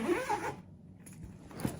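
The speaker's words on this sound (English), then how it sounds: "pull the zipper all the way across" A zipper is pulled closed along a black tote bag in a few quick rasping strokes close up, followed by a brief pause and a softer final tug.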